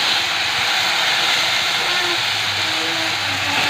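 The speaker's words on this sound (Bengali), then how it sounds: "এবারে ভেজে নেবো" Sattu, roasted gram flour, fries in a pan with a dense, continuous hiss that stays loud and even throughout, with no talking.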